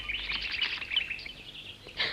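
Birds in a jungle cartoon chirp and tweet in quick high bursts, moderately loud and fluttering, with no talking over them.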